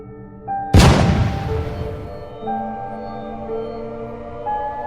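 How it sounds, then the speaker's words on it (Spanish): A single sharp 9mm pistol gunshot cracks out loudly and rings off briefly, set against a quiet background of soft sustained tones. "Me voy a disparar en la cabeza con esta pistola 9 milímetros"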